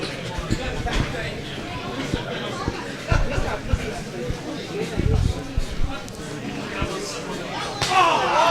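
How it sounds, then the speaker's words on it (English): A heavy slap lands during a wrestling match, a sharp smack among thuds and impacts over a noisy arena crowd, with a commentator talking throughout. "heavy slap."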